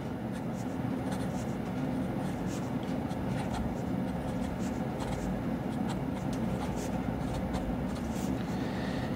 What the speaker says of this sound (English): This is on Rhodia paper, and you can hear how it writes while I write.